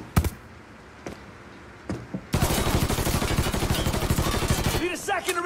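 Gunfire from the game Mafia III opens with a few separate, sharp shots and then erupts into a loud, rapid volley of bursts that runs for several seconds, with a short cry rising near the end.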